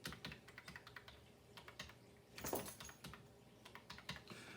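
Fingers tap quickly on a new Lexi Bluetooth keyboard, entering digits on its keypad in a steady stream of close, crisp keystrokes, with one louder clack partway through.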